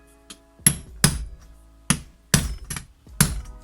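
Hammer blows drive a rivet down on a box strap. About six sharp metallic strikes land at an uneven pace, close and distinct, with short ringing after each.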